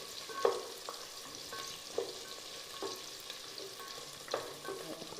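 Green chilies being sautéed for a Tamil stingray fish kulambu, with a steady low sizzle in the pan and several distinct scrapes and clinks as a spoon stirs them at irregular intervals.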